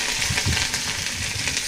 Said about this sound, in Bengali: একটু তেলের সাথে ভাজা হয়ে যাবো।